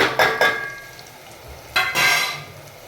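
Garam masala, red chilli powder and turmeric sautéed in a pan for masale bhaat, with short bursts of sizzling and spoon stirring that come and go, close and moderate, with quieter gaps between them.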